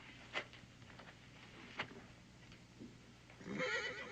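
A horse whinnies faintly in the distance, followed by soft shuffling and movement noise that grows slightly louder toward the end.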